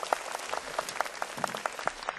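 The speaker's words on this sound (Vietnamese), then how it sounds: "chúng ta hãy dành một tràng pháo tay thật nồng nhiệt để cùng chào đón sự quay trở lại của 9 thí sinh" Audience applause welcoming nine returning contestants at a Vietnamese televised singing contest final, a steady wash of many hands clapping in a large hall, moderately distant and even throughout.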